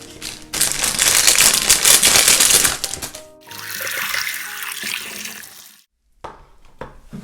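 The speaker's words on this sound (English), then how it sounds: "As I have washed them thoroughly under the tap water" Gooseberries being rinsed under a running kitchen tap, a loud steady splash of water that eases off midway, then stops and gives way to a few short clatters and knocks near the end.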